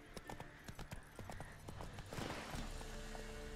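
Roach, the horse in The Witcher 3 video game, galloping with a quick, rhythmic clip-clop of hooves, fairly faint, ending in a louder rushing burst.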